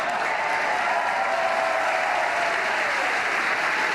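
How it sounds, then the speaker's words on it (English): SpaceX employees applaud and cheer during the Crew-3 launch to the ISS, a steady, even wash of clapping from a large group that holds at moderate level throughout. "SpaceX is cheering"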